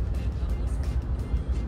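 Road traffic crawling in congestion near the New South Wales border, a steady low engine rumble and tyre noise heard close from inside a vehicle, continuous throughout.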